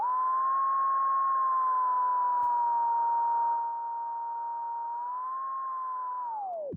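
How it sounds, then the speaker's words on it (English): A Serato timecode control tone played pitched up, a steady sustained electronic tone with a slight wavering pitch, loud and alone, dropping sharply in pitch as it cuts off at the end. "What the control tone does is it runs into the sound card on this mixer into Serato"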